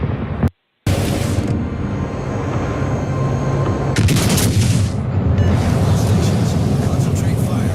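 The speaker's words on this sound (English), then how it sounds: "Here comes the cruise missile again." A cruise missile strike on Ukraine during a Russian attack, heavy roaring rumble and blasts with a brief dropout, then a sharp loud surge of noise around the middle, continuing as a dense booming roar.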